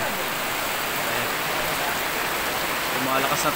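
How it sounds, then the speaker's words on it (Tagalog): Heavy rain pours down steadily during a rainy birthday gathering, a dense continuous hiss with slight swelling toward the end. "Lumalakas yung ulan."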